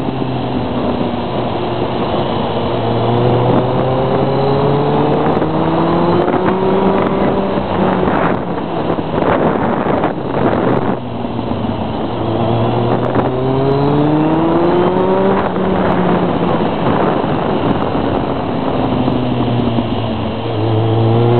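A Kawasaki ZRX 1200 four-cylinder 1200 cc motorcycle is ridden, its engine note climbing through repeated revs and dropping at each gear change, heard up close under heavy wind buffeting.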